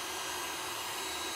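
A heat gun blowing hot air onto a white PVC pipe fitting, a steady, loud broadband whoosh with an even, unbroken roar throughout.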